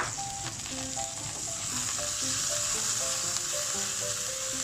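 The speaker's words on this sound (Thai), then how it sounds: "แล้วทำการผัดไปนะครับ ให้กุ้งสุกก่อน" Shrimp stir-frying with golden garlic in a hot pan for a keto cauliflower dish, a steady dense sizzle running throughout with faint tonal music underneath and no talking.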